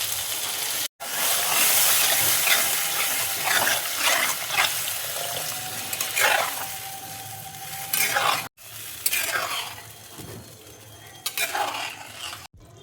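Water is poured into a pan of fish curry with potatoes, which sets off loud, steady sizzling and hissing steam with stirring swishes close by. Two brief breaks cut the sound.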